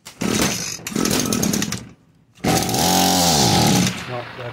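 A two-stroke Echo GT-225 string trimmer engine sputters and buzzes briefly, cuts out for a moment, then fires up and screams at high revs before settling slightly, loud and close.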